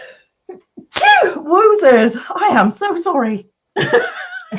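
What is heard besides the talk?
sneeze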